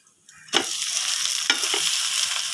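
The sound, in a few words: mustard seeds, urad dal and red chilies frying in oil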